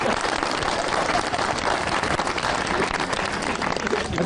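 Sustained applause from a studio audience at a comedy show, a dense, even wash of many hands clapping together, steady and fairly loud throughout with no pauses.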